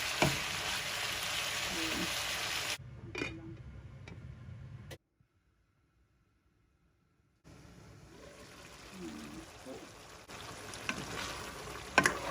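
Pork menudo meat cooking in a pan with bay leaf, a soft sizzle with stirring clatter, briefly dropping to near silence midway before the frying resumes; a voice speaks at times.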